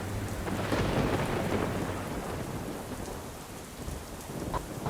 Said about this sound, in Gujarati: સતત વરસાદ પણ ચાલુ છે